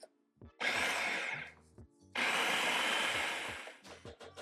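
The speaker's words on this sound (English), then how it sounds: "You can put this in a blender or a processor. And I'm going to do this until it's smooth." A food processor purees ingredients for a chili relleno casserole until smooth, running in two loud, close whirring bursts separated by a short pause, with clattering as it stops.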